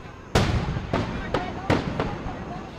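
Festival fireworks during a grand finale, a quick series of five loud booming bursts with crackling tails, evenly spread across the moment over a steady crowd murmur.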